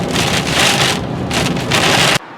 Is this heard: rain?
yes